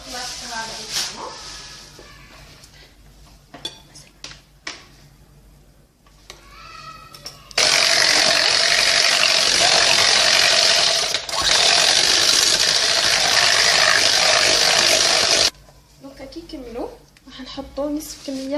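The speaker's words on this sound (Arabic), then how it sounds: "نجيب الخلاط الكهربائي تاعنا" An electric mixer beats eggs for a cookie dough, running steadily and loudly for about eight seconds with a dense whirring hiss, starting and stopping abruptly, with clattering and talk before and after.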